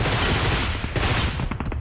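Rapid bursts of automatic gunfire from the PUBG Mobile battle royale game, loud and dense throughout, with a sharp crack near the middle and scattered shots toward the end.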